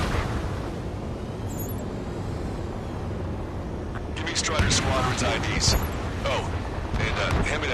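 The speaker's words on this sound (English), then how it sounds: "Gunfire in the roar of jets echoing from the streets" Gunfire and explosions from jets over a city under martial law in the combat flight game Ace Combat 7, a steady rumbling roar that swells into denser crackling bursts partway through, with a voice talking over it.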